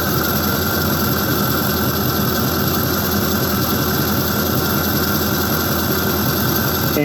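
A C5 Corvette engine idles through long-tube stainless headers with ceramic coating, a steady, loud, rumbling exhaust drone with a constant low pulse and no variation in pace.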